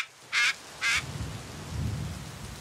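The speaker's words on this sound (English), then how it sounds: "this rain is utterly unexpected" Cartoon rain and thunder: two short, loud bright bursts like thunder cracks, then a steady wash of rain with a low rumble building toward the end.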